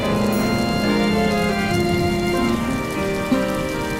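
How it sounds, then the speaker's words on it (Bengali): Animated rain pours steadily over a village during a flood in a Thakurmar Jhuli cartoon, a soft, even patter of drops mixed under a tonal music bed, without speech. "কিছুটা বৃষ্টি কমেছে"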